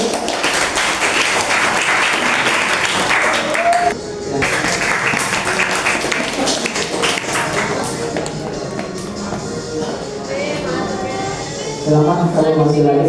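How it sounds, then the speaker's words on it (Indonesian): An audience claps through a long stretch for contestants who advanced to the next round of an elimination challenge show, with a steady wash of applause and a brief dip partway through, while voices and music-like tones surface near the end. "Tepuk tangan untuk kalian."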